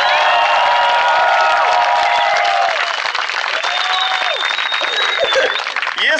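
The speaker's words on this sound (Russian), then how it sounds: "аплодируем прямо сейчас" Audience at a KVN comedy competition at the MIF-2011 festival breaks into loud, sustained applause, a dense wash of clapping with whoops and shouts rising through it for about six seconds.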